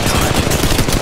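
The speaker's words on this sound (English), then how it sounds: "The second squad is firing at us." Rapid automatic gunfire from an enemy squad in the mobile shooter Apex Legends Mobile, a loud, dense burst of overlapping shots filling a single second.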